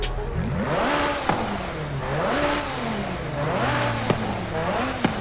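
A McLaren P1 engine in Forza Horizon 5 revs repeatedly, climbing and falling in pitch in a steady rhythm, loud and close, with a few sharp pops between the revs.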